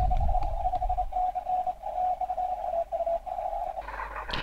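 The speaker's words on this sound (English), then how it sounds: "here's an example where the bandwidth has been brought really narrow, just to pull out a Morse code signal" A narrow-bandwidth Morse code signal received on an RTL-SDR software defined radio, heard as a steady tone keyed on and off in rapid dots and dashes over faint static, ending in a burst of broadband noise.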